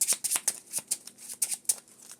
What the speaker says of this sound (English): So we'll shuffle up.